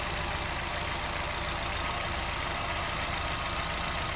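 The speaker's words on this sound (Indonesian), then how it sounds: "Dan ini adalah suara mesin oli Picanto saya setelah melakukan treatment dengan engine flush dan ganti oli" A Kia All New Picanto's engine idles after an engine flush and oil change, giving a close, steady, even hum with a light, fast ticking texture and no voices.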